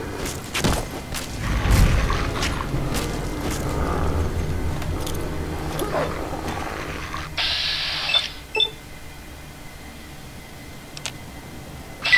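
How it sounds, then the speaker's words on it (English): Explosion in the video game Fallout New Vegas, a low booming blast followed by rumbling debris and scattered ticks and thuds, with a sharp burst later. "Explosion!"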